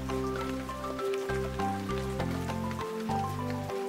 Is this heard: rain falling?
yes